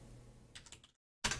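Quick keystrokes on a computer keyboard come in a short burst, a brief pause, then another flurry, close and fairly quiet with no voices.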